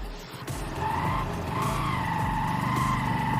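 A Honda CB Unicorn motorcycle engine, recently freed from a seized piston during repair, revs high and sustained with a whining, rising tone, loud and close throughout.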